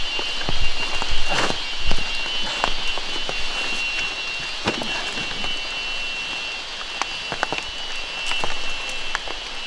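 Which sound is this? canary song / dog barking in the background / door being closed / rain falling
rain falling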